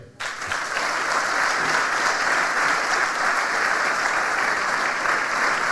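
An audience at a public session in Lourinhã applauds in honour of poet Manuel Alegre, breaking into loud, dense clapping after a brief quiet start and holding it evenly and continuously, a full room of hands with no voices on top.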